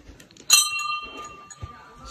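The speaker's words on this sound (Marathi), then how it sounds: "चढता चढता ते घंटा वाजवत जाव सुद्धा असते ते." A single bright clang of a temple bell hung along the steps climbing to a hilltop temple at Muktagiri, its metallic tone ringing on and slowly fading, with faint voices and footsteps around it.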